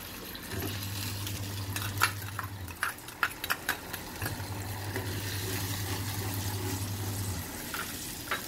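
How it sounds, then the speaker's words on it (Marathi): Sugar being stirred into sabudana kheer in a pot on the stove, with soft sloshing and a few sharp spoon scrapes against the pot over a steady low hum. "साखर एकदम मिक्स होऊ द्यायची."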